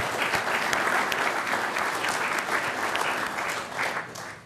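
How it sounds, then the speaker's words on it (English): Audience applause at a city's State of the City address, a full, dense wash of clapping hands, loud and sustained before tapering slightly at the end. "Raise your hand and get an applause."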